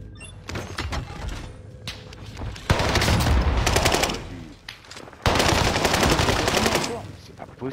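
Video game gunfire: sustained automatic bursts come in two long loud volleys separated by a quieter stretch, over busy in-game ambience.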